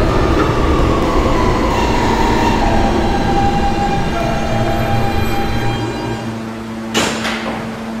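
An R160 D subway train in a Roblox game rumbles steadily along with a whining tone and rattling undercarriage, loud and close, with a brief burst of hiss near the end.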